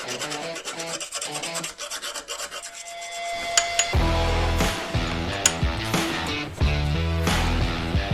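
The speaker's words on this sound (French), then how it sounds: "on va lui donner un petit coup de lime." Steady rasping strokes as a hand file works paint off the center-stand axle of a Honda CB500X motorcycle, close and fairly loud, with no talking.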